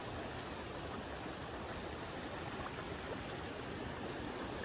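La Paz Waterfall in Costa Rica roars as a steady, dense rush of falling water, loud and continuous with no voices.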